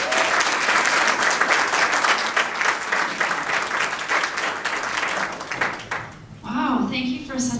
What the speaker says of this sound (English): So please give a big, warm round of applause welcome for our Silver Executive, Gillian Drader.